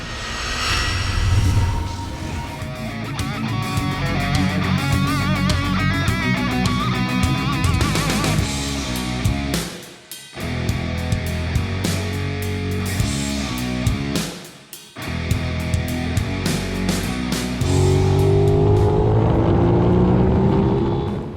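An Aprilia RS 660 sport bike pushed hard around the Mandalika circuit, its engine screaming continuously at high revs. Two short cuts break the sound, and after each one the revs rise again.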